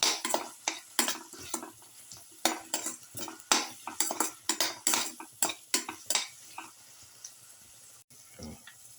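Winter melon sautéed in a pan with chili powder, a spatula repeatedly scraping and clanking against the metal in quick uneven strokes over a faint sizzle of frying, close and fairly loud.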